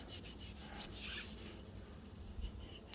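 A Duramax LLY diesel injector nozzle scrubbed with a piece of Scotch-Brite pad, quiet close rubbing strokes in a quick uneven rhythm, with one louder scrape near the middle.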